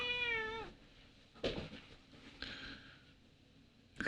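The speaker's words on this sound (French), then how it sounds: "Vous entendez mon chat qui miaule" A cat meows close by, a clear drawn-out cry at the start followed by a couple of shorter, fainter meows later, with no talk over it.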